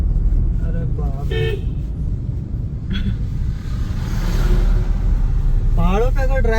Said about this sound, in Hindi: पहाड़ों पे अगर ड्राइव करना है तो हर मोड़ पे हॉर्न आपको जरूर देना है